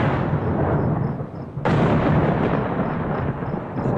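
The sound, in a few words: thunder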